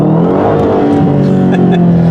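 A Dodge Hellcat accelerating hard on a public road, its engine roaring loudly and rising in pitch for a couple of seconds, heard close up from inside the car.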